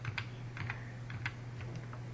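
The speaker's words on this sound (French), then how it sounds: "on clique son doigt sur la touche CTRL du clavier" Computer keyboard keys being pressed during a tutorial, a string of light, separate clicks at an uneven pace over a low steady hum, with no talking.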